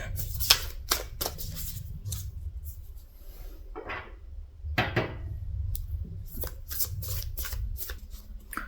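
An oracle card deck is shuffled by hand, giving a series of crisp riffling bursts and soft card slaps with short pauses between them, close up and with no talking.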